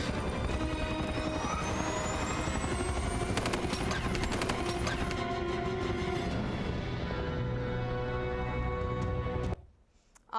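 A helicopter in a zombie escape scene from the film World War Z sounds loud and continuous, mixed with dense action noise and bursts of clatter, before cutting off abruptly near the end.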